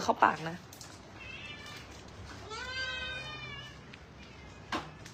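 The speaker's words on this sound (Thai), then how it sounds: "นี่ตัวนี้เป็นแม่แมว" A mother cat meows once near the middle, drawn out and moderately clear, with a short vocal sound at the start and a faint one near the end.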